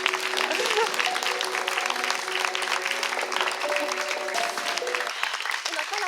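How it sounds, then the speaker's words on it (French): A French game-show studio audience applauds at the close of a Burger Quiz episode, steady dense clapping filling the whole stretch with a faint voice and musical tones underneath. "on applaudit bien fort"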